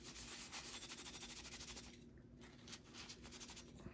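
Cloth rubbing briskly over a Dell Inspiron 3650 desktop computer part, a close, fast rhythmic swishing that pauses midway, then resumes in softer, irregular strokes.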